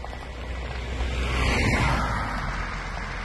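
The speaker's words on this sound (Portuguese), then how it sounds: "Muito carro passando." Cars and heavy trucks rush past steadily on a highway beside a large grass fire, a continuous broad roar that swells slightly mid-way, with no speech.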